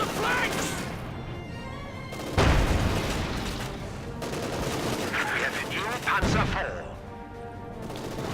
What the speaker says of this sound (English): Heavy mortar fire.